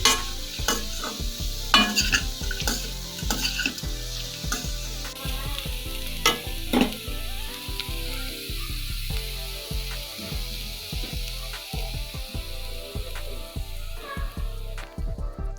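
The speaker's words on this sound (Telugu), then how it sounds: "ఈ క్యారెట్ ఫ్రై చేస్తున్న సమయంలోనే కాస్త పసుపు కూడా వేసేసుకోవాలండి" Carrots frying with turmeric in a pan, with steady stirring clatter and sharp spatula scrapes over a continuous close sizzle. There is no talk.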